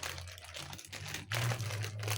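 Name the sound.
unboxing a package, crinkling packaging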